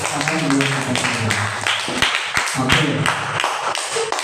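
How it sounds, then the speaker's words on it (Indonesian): An audience in an Indonesian training session claps together, a steady, dense patter of many hands running throughout at moderate loudness, with a few sharper individual claps standing out and voices mingling underneath. "tepuk tangan buat kita semua"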